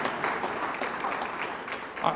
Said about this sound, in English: that's my applause to our operations staff